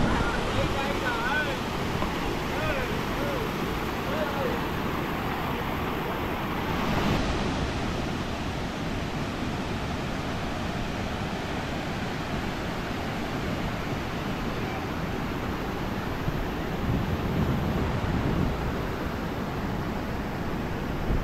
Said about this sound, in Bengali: একটা বেশ ঝর্ণার যে সৃষ্টিটা হয়েছে দারুণ লাগছে